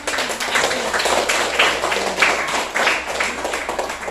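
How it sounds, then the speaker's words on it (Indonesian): A classroom of pupils clapping together at the end of an elementary school lesson, a dense, continuous patter of many small hands with no single beat standing out. "Tepuk tangan semua."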